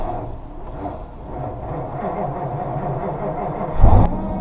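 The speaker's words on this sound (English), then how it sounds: "Let's see if the truck starts." A truck engine cranks and catches on a cold morning, a steady low idle-like rumble throughout with a louder burst near the end as it fires up, close by.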